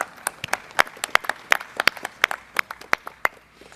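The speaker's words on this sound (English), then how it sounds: "Could we please give them a round of applause?" Sparse, scattered handclaps from a small group, uneven and fairly quiet, tapering off toward the end.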